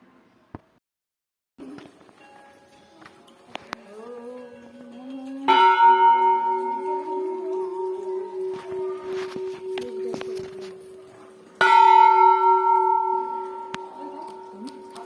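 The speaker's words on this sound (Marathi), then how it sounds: "आणि इथं घंटानाद असा चालू होता." Temple bells ring at the Kavnai pilgrimage site's main water tank. Two loud clusters of strikes leave sustained ringing tones, with quieter footsteps and ambient sounds between them.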